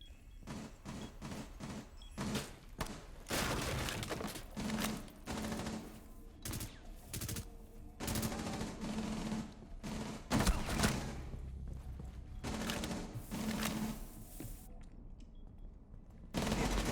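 SMG-11 submachine gun fire in the Rainbow Six Siege video game, repeated bursts of rapid shots in irregular clusters with short pauses between them, loud and close, with no talk.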